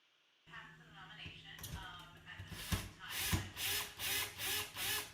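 A screwdriver drives the frame screws of a Panasonic Whisper Choice ceiling bathroom exhaust fan back in, with scraping and creaking at first, then a run of five evenly spaced ratcheting bursts, close up.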